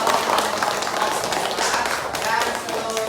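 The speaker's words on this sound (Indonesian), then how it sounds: "Iya, tepuk tangannya" Students in a classroom clap together, a dense steady round of applause that keeps going without a break the whole way through.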